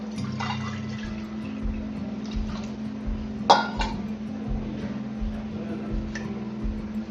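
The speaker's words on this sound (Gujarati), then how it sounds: "એમાં પાણી રેડવાના" Water splashing into a metal kadai on a gas stove under a pulsing low hum, with a sharp clink of metal midway and lighter clinks after.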